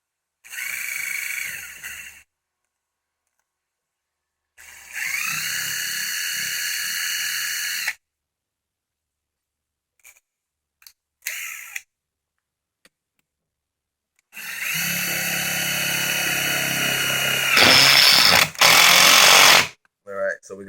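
A Makita 12V cordless impact driver drives a screw in several loud bursts with short pauses and quick taps between, ending in a long, hammering run.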